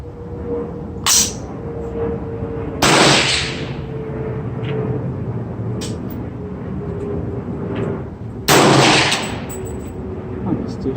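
300 Blackout rifle shots at an outdoor target range, two or three sharp loud reports spaced a few seconds apart over steady background noise.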